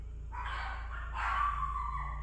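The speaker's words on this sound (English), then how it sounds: "Oh, dogs." Dogs bark indoors, two short bursts in quick succession over a low steady hum, moderately close.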